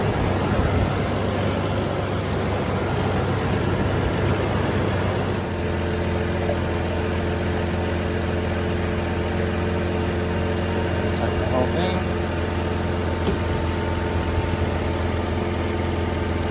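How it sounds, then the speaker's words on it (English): A Toyota Landcruiser 80 Series with the 1FZ-FE petrol engine idles steadily with a low, even drone, its tone changing slightly after the first few seconds and then holding constant. "we're going to start the car"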